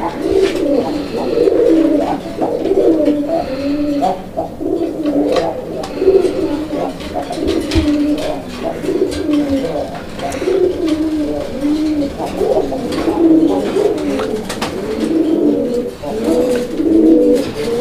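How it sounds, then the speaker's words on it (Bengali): A male jet-black Raj Golla pigeon coos close by in repeated rhythmic phrases that rise and fall over a steady background, and faint human sounds occur now and then. "নরের ডাক দেখেন।"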